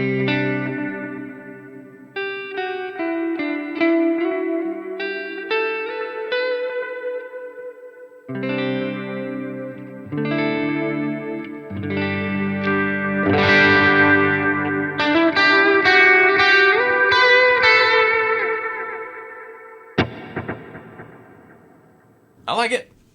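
Electric guitar through a POD Go multi-effects preset with chorus, distortion, echo and trails switched on. Loud, sustained chords and single-note runs ring with a shimmering, echoing tail and stop abruptly near the end.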